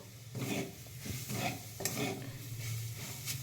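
Grated carrot halwa being stirred in a pan after ghee is added, a quiet, steady rhythm of spoon scraping through the thick mixture with a soft frying hiss underneath.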